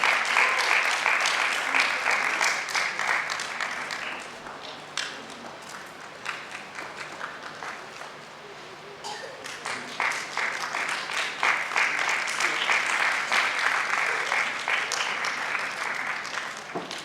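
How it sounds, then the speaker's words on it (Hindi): Enthusiastic applause from an audience at a cultural stage event in Bhopal, dense clapping that dips mid-way and swells again, with some voices mixed in. "कृपया जोरदार तालियों द्वारा उनका स्वागत करें।"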